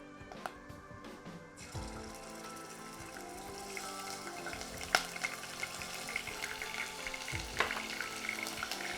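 Ginger garlic paste sautéing with green cardamom and cloves in a pan for Lucknowi chicken biryani, with a steady sizzle broken by sharp clinks and scrapes, close up, after a brief quieter start.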